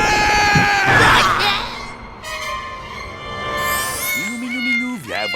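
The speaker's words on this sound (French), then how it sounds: "Minou, viens voir tonton Grégor. Petit minou" Cartoon cat from the Oggy and the Cockroaches animated series meowing loudly, with drawn-out wailing and rising mews over a busy background of music and effects.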